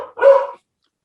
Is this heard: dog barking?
yes